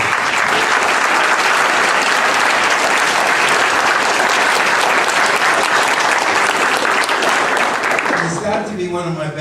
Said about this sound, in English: Just a round of applause for yourself.